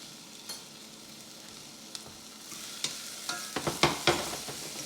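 Small-cut ingredients for homemade nachos fry in a pan with a steady sizzle. Scattered clicks and scrapes of stirring grow busier toward the end, and no one speaks.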